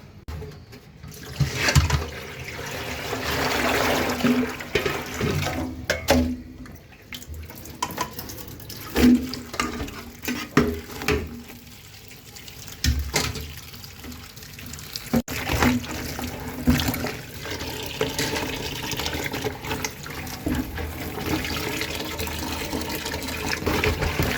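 Taro rinsed by hand under a running kitchen tap: water gushes and splashes close by, rising and falling in uneven bursts as the pieces are turned and scrubbed.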